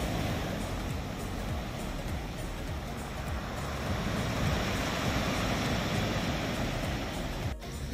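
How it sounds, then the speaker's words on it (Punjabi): High, rough surf crashes on an evening beach at Nice, France, in a loud, steady roar that barely changes, with no voices over it. "ਇਹ ਤਾਂ ਬਹੁਤ ਡੇਂਜਰਸ ਆ ਕਾਫੀ ਉੱਚੀਆਂ ਲਹਿਰਾਂ ਆ ਰਹੀਆਂ ਨੇ ਇਹਦੇ ਵਿੱਚ ਸਮੁੰਦਰ ਨੂੰ"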